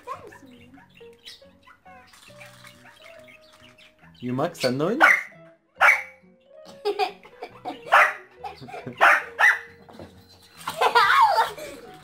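A small Maltese terrier makes angry growls and sharp yapping barks in several loud bursts, with a person talking and laughing between them.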